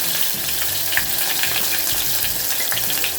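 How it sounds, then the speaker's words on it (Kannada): Lengthwise-sliced onion frying in hot oil, a dense close crackling sizzle with small pops, steady and alone for a few seconds. "ಚೆನ್ನಾಗಿ ಅದು ಫ್ರೈ ಆಗಬೇಕಾದ್ರೆ ಒಂದು ಈರುಳ್ಳಿನ ಉದ್ದಕ್ಕಾಗಿ ಕಟ್ ಮಾಡ್ಕೊಂಡ್ಬಿಟ್ಟು ಹಾಕೊಳ್ತಾ ಇದ್ದೀನಿ"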